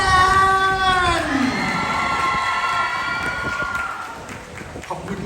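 Thai fans at a Bangkok press conference for Snow Man's pop-up store opening cheer and shout loudly, a dense crowd roar with high whoops that fades slightly toward the end.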